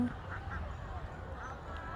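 Ducks quack faintly from a distance in a rural setting, giving a few soft, brief calls over a quiet outdoor background.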